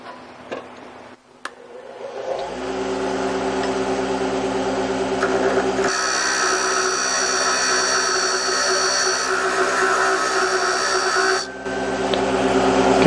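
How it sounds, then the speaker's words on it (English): Thin-blade parting tool cutting into aluminum stock on a lathe, a steady close whine of the spinning workpiece with a high grinding tone that rises mid-cut and eases, no talk. "a thin blade parting tool"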